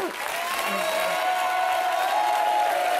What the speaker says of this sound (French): Franchement, on peut les applaudir fort